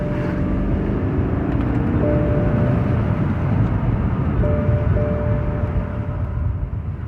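A BMW 550 with a boost fault and misfires roars steadily and loudly under a hard, deep acceleration pull, a dense close-up drone from inside the car with no talking.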